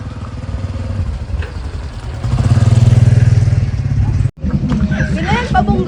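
Motorcycles rumbling along a road toward town, engine noise swelling into a loud, close buzz midway, mixed with chatter from riders and brief gaps in the sound.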